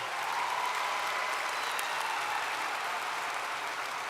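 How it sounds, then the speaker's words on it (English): Steady, dense applause from a large graduation audience honoring graduates of a college of applied human sciences, an even wash of clapping sustained throughout and heard from a distance. "Give them a round of applause, would you please?"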